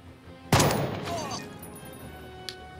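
A single loud, close gunshot in Jagged Alliance 3 cracks out and rings into a long fading tail, followed by a faint, small pop a couple of seconds later.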